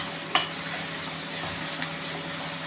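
Onions sautéing in a pan for rava khichdi, a soft continuous sizzle with a couple of sharp spoon clinks against the pan.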